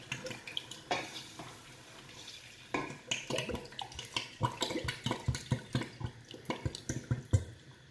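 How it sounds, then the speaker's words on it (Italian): Water goes into a big pot of lasagne sauce in a home kitchen, a close, soft splashing and stirring with scattered clinks and sloshes building toward the end; no voices. "Aggiungo direttamente l'acqua."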